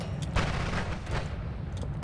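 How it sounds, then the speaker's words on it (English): Video game gunfire rattles in dense, overlapping bursts throughout, loud and close, with no voices over it. "Who's shooting at you?"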